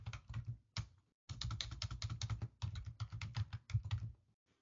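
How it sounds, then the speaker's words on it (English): Typing of a netmask command on a computer keyboard, with quick bursts of close keystrokes separated by short pauses. The clacking carries on steadily with no voices. "So you type netmask."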